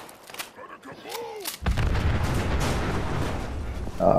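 A big explosion in the Fallout 76 video game erupts after a quiet stretch of speech, its loud roaring rumble sustained and close for several seconds.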